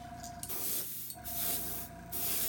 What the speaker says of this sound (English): And just get a little overspray on it so that I can blend the colors together.